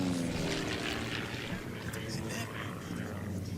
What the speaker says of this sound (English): We got one more plane apparently on the race course.